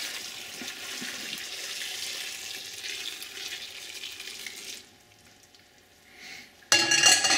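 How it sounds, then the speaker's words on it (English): Hot boiled pickling mixture poured over peppers, a steady splashing, sizzling stream for nearly five seconds, then quieter trickling and a brief clatter at the end. "we're going to pour this over our peppers"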